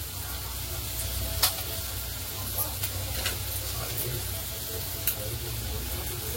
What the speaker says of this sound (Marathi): असं मिक्स करून घ्यायचं आहे सगळं। कांदा थोडासा नरम पडला पाहिजे।